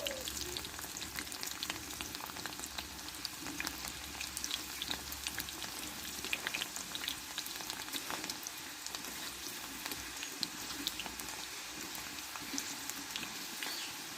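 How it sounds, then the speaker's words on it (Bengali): Chana dal frying in hot oil in a strainer for crunchy dalmut: a soft, even, rain-like crackle of bubbling oil that holds steady throughout, quiet and without talking. "এবার এইভাবে আমি ডালগুলোকে ভেজে নেব"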